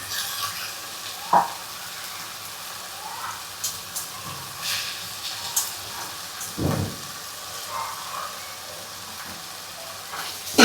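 Grated coconut roasting in a pan over a gentle flame for a Konkani-style cashew curry gives a low, steady sizzle with a few soft scrapes and stirs, fairly faint and unbroken by talk.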